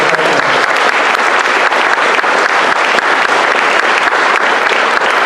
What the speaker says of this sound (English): I'd like to give a round of applause to the group.